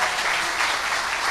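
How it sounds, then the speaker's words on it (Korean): A church audience at an Easter sermon breaks into steady, dense applause, a continuous wash of many hands clapping with no speech over it. "박수 한번 주시죠."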